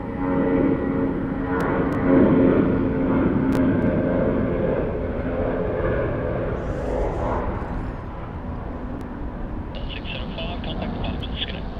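Jetstar airliner rolling for takeoff at Sydney Airport, a broad engine roar that swells early then slowly eases away, with people talking over it.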